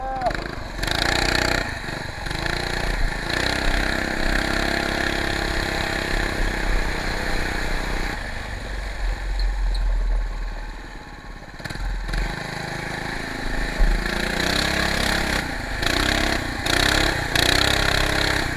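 A minibike fitted with an eBay torque converter: its small engine drones loud and close, surging and revving in waves, with people talking faintly at times.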